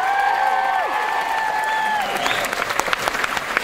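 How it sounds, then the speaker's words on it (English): A concert crowd at the Customs House applauds and cheers for a tour show, steady clapping filling the room and thinning slightly toward the end, with a sustained musical tone drifting underneath. "So give them a big cheer."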